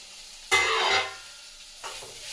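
Vegetables frying in a pan over full flame, a loud burst of sizzle and stirring that fades, followed by a second softer scrape, close and with no talk.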